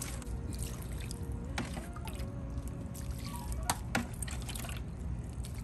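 Rainwater poured onto herb and vegetable seedlings in a South Florida garden at night, a soft, low trickle and splash against a steady background hum, with a few brief clinks and drips.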